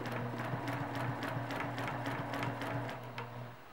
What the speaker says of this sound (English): So now we're going to stitch along the ditch till we get to the middle